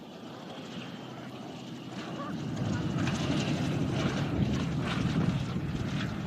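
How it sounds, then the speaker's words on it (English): A Cessna light airplane makes a low pass in stormy weather, its propeller engine droning and swelling louder as it nears, with people talking over the noise. "The Cessna doing another really low pass."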